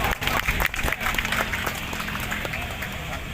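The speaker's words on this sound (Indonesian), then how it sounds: "Sekali lagi beri tepuk tangan yang meriah." Audience applause after an MOU signing at a PWI Riau Islands press association ceremony, brisk clapping at first that thins and softens, with a low hum and some background voices.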